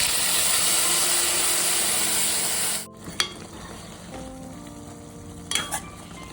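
Ground masala paste frying with half-cooked brinjal in a pan, a loud steady sizzle that cuts off abruptly partway through, followed by quieter scraping and a few clinks of stirring.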